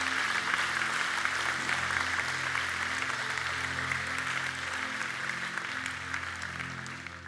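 Sustained applause from a large church congregation fills the room, steady and even, fading slightly toward the end.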